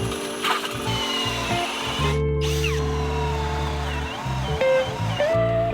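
Power drill boring into a Westfalia camper van during a solar electrical install, heard as a loud, close, steady whine that changes pitch as the bit speeds up and slows down, with brief pauses and no talking.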